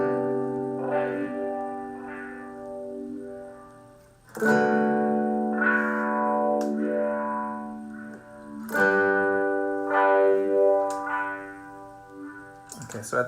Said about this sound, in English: let's put on this cheesy sweep echo so you can hear